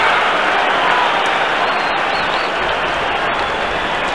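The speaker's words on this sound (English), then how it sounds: "Crowd in full voice." A football stadium crowd roars loudly and steadily at a 1991 Australian football match, Adelaide Crows against Carlton, with dense cheering and applause filling the whole stretch and no voice standing out.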